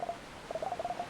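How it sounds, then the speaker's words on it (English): A telephone sound effect from the video game Dance Dance Detective plays as a quick string of faint, short electronic beeps, two at first and then a rapid run of several more. "telephone and alarm clock sound effects"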